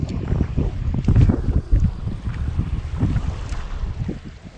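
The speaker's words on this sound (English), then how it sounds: "It's very windy today, guys." Strong wind buffets a small fishing boat out on the water during spoon fishing for coho salmon, a steady, gusty rumble of microphone-battering noise running throughout.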